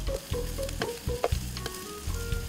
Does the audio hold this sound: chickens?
no